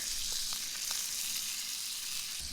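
Food fries in a pan of soy sauce and butter, giving a steady loud sizzle with faint pops and stirring scrapes throughout, close up and without talk.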